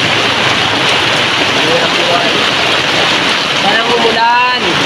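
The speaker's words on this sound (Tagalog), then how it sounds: "Ang lakas ng ulan." Dense, steady downpour of heavy rain hissing loudly and continuously close by, with a voice speaking briefly near the end.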